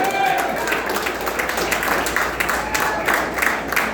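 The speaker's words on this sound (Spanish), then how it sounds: "Fuerte ese aplauso a Jesucristo." A church congregation claps for Jesus during a Sunday sermon, with loud rhythmic applause pulsing through the hall and a voice or cheers mixed in at points.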